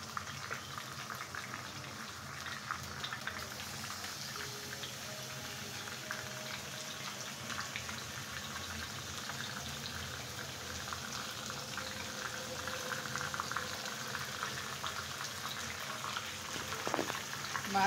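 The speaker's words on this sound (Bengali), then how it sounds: "আমি এই যে 5 মিনিটের জন্য ভাজতে রেখে আমি একটু কাজ করে নিলাম।" Ingredients for morog polao fry in a pan with a steady, soft sizzle and bubbling that runs unbroken for the whole stretch, fairly quiet and close.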